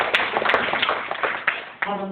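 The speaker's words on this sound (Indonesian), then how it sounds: "Dan dengan tepuk tangan bagi Allah." A church congregation claps along during a worship service, dense rapid hand claps mixing into a steady crowd wash, with voices and sustained tones rising near the end.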